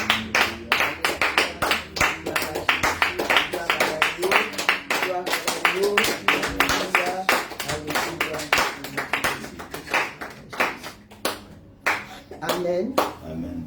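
A church congregation claps together in steady, dense rhythmic applause, loud and close, with voices speaking and calling out over the clapping.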